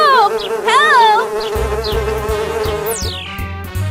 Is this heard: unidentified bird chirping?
no